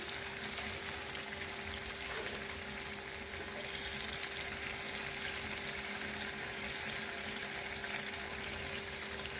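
A second batch of soft lentil dahi bhalle, made without baking soda, fries in hot oil with a soft, continuous bubbling sizzle that swells briefly midway, heard alone and fairly quiet.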